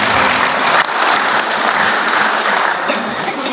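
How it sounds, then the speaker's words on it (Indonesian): A gathered crowd at an official installation ceremony for village officials in Kendal gives loud, sustained applause, an unbroken wash of clapping that stays strong throughout. "Tepuk tangan untuk semuanya"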